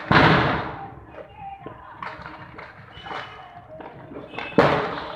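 Firecrackers set off on a dark rooftop during Diwali: a loud thud opens, a few fainter pops and crackles follow through the middle, and another sharp bang lands near the end, with no talking.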